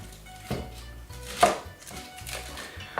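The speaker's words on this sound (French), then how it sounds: "on va commencer par un petit oignon qu'on va séparer en deux pour les deux casseroles" A knife chopping through a fresh market onion on a cutting board, several distinct thuds in an uneven rhythm, close and clear with no talking.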